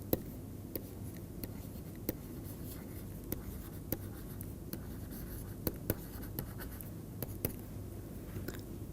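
Pen or chalk writing out equations by hand, soft continuous scratching strokes with sharp little taps at irregular intervals, close and fairly quiet, with no talk.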